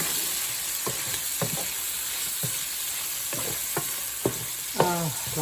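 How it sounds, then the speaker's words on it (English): Garlic sizzles in a frying pan with kielbasa and cabbage, a steady close hiss broken by several sharp scrapes and clacks of a utensil stirring against the pan, the louder knocks near the end. "So now I'm adding 1 tablespoon of garlic. I'm going to stir that around."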